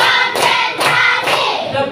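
A group claps hands in rhythm, three loud, close sharp bursts of clapping evenly spaced in quick succession with no talk.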